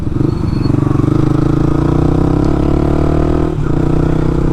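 A Yamaha R15 V2 motorcycle fitted with an Akrapovic full-system exhaust runs close by with a loud, steady engine drone, its pitch dipping slightly partway through.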